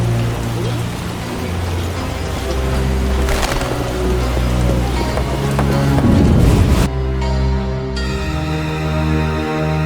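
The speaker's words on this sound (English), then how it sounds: "What a downpour!" A heavy downpour in The Witcher video game hisses steadily and loudly, layered over low game music and ambience, with a brief shift in the mix toward the end.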